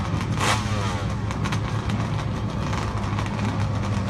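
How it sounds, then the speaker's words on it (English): Drag racing motorcycles firing up in the staging lanes, a loud, continuous engine roar with a brief rising rev near the start and a steady rumbling drone after, somewhat distant and echoing. "the bikes are firing up over in the lanes"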